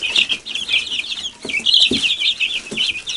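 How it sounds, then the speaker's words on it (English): Swedish flower hens and a Jersey Giant among chicks, clucking and calling outdoors in a steady run of close, fairly loud vocalizations with brief low scratching or thumps. "It's one of our Swedish flower hens there."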